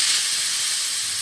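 A pressure cooker cooking mutton soup lets off a loud continuous steam hiss, close and unbroken for the whole moment without pause.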